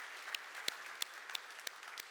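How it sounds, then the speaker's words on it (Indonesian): A church congregation claps for Jesus during a Sunday service, a few sparse, evenly spaced handclaps ringing out faintly over roughly two seconds, with no one speaking. "kita tepuk tangan dulu buat Tuhan Yesus"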